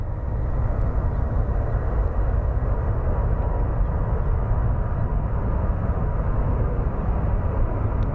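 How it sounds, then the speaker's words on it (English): An Embraer 175 long-range jet arriving from Houston at Sky Harbor Airport gives a loud, steady broadband roar that holds constant throughout, with no voices. "6145 coming in from Houston. It's an Embraer 175 long range."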